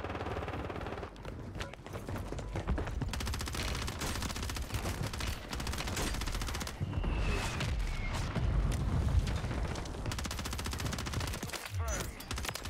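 Dense, continuous automatic gunfire and explosive booms from a Call of Duty match on Rebirth Island, loud and chaotic with overlapping shots for the whole stretch.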